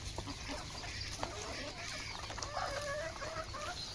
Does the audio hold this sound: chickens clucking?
yes